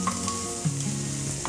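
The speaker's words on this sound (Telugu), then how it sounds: "క్యారెట్ కొంచెం ఫ్రై అయ్యాక అల్లం పేస్ట్ వేసుకోవాలి." Carrot fries in a pan with ginger paste, a close, steady sizzle with soft stirring scrapes and no voices.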